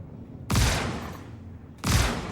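Two heavy shotgun blasts from the video game Star Citizen, each a loud broadband boom with a trailing decay, spaced a little over a second apart with no talk.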